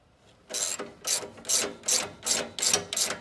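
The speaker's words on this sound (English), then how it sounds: "What you're going to use on these are number 17 socket and number 17 box wrench to go ahead and tighten these on." Ratchet socket and box wrench, both 17 mm, tightening bolts while assembling a golf scooter: seven steady ratcheting bursts, close and fairly loud, with a brief pause between each pull.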